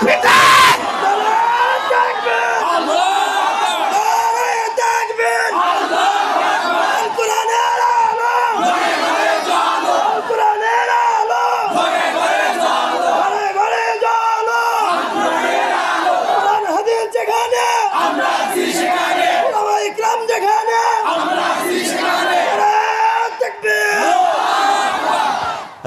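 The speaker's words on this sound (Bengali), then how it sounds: "তাকবীরের ধ্বনি দিয়ে আল্লাহকে খুশি করে দাও" A large crowd at an outdoor religious sermon gathering in Pabna, Bangladesh shouts the takbir, Allahu Akbar, in loud rhythmic surges that keep going for the whole stretch. A preacher's amplified voice leads it.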